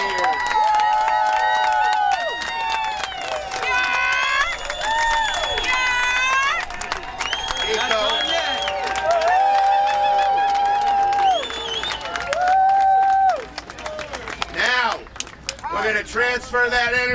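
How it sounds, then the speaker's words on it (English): A crowd at a New York cannabis parade and rally cheers and shouts, with loud voices rising and falling over scattered clapping that fades out near the end. "So I want to hear a big, long New York round of applause for every single organizer who has pushed this through the years."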